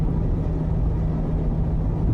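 A truck rolls along the road with a steady, loud, low engine rumble and tire drone throughout, no voices over it.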